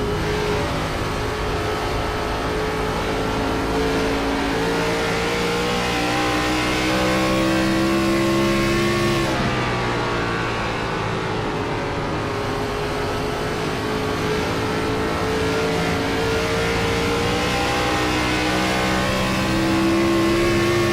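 A race car engine at Rockingham drones loudly and continuously through a corner, its pitch rising and falling as the throttle is feathered, then dipping and climbing again, with no voices over it.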